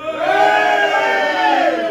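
Audience at a stand-up comedy show in Dartmouth cheering loudly and continuously, a dense crowd roar with whoops filling the room, no single voice standing out.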